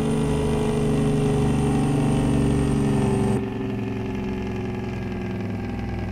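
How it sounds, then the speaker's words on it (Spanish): Steady, droning engine of a Freightliner Cascadia truck with a Cummins Big Cam N14, driven in American Truck Simulator, a close, even hum with strong harmonics that drops to a quieter tone partway through, with no talking. "escuchen, escuchen el motor"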